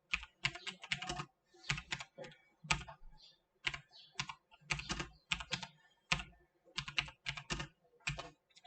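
Steady typing on a computer keyboard, clusters of close, crisp keystrokes separated by brief pauses throughout.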